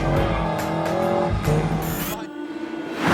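A stiffened, sharper Porsche 911 GT3 RS-based car drives hard with a loud engine roar that rises and falls through gear changes, with brief tire noise near the end.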